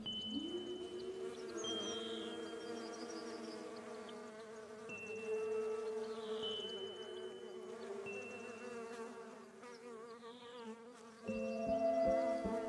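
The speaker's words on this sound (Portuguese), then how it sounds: "A primavera se deve a estas abelhas." Bees buzzing around spring flowers, a steady droning hum with a few passing insects rising and fading over a soft musical background, no speech.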